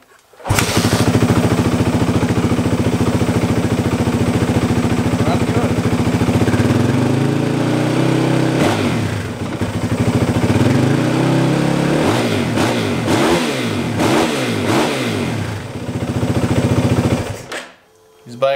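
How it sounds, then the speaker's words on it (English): A Yamaha WR450 dirt bike with a bad fuel pump starts and runs loudly up close, holding a steady rough idle before a series of sharp throttle blips and revs near the end, then cutting off. "start it and see how it runs"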